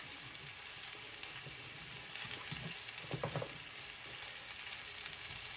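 Fennel frying in a pan of oil, a steady broadband sizzle throughout with a few brief stirring or pan scrapes, close and fairly quiet, no voices.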